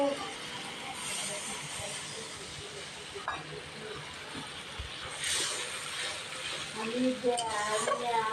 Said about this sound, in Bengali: একটু গরম জল অ্যাড করে পুরোপুরি তেল ছাড়া অবধি কষিয়ে নেব।